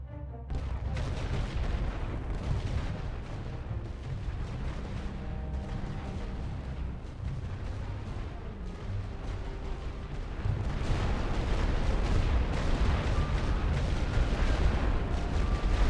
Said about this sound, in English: let's see how the light artillery get on against the enemy artillery